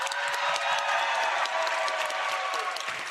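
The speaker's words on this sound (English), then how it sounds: "Can we get another cheer for Poundy, please?" Studio audience at a Minecraft speedrunning tournament cheers and applauds continuously, a dense, steady wash of clapping and shouting that fills the whole stretch without a break.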